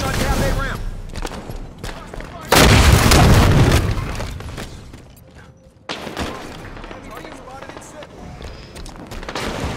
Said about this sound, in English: Hostiles firing on cafe ramp.